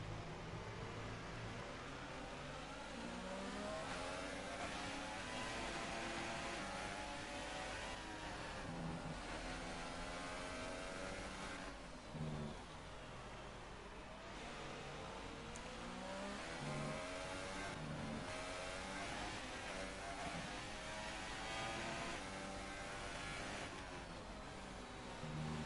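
A racing car with a gearbox fault in a German Grand Prix racing game, its engine revving and accelerating in long sustained pulls with shifting pitch, loud and continuous from start to finish.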